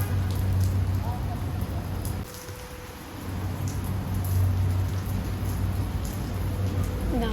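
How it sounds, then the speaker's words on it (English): Steady rain falling outdoors in Tbilisi in July, a continuous close patter and hiss with a brief dip in intensity midway, voices faintly present. "Now it's raining"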